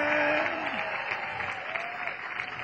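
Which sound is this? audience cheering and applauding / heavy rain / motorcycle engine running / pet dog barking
audience cheering and applauding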